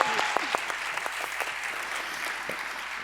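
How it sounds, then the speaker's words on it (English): An audience at an awards ceremony applauds steadily, with dense overlapping claps that carry evenly at moderate loudness and show a few sharper individual claps near the start. "Let's give a warm applause."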